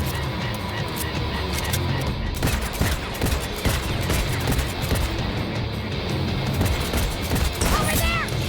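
Gunfire bursts in the video game Cyberpunk 2077, rapid overlapping shots mixed with crashes and engine rumble, loud and dense throughout with people talking over it.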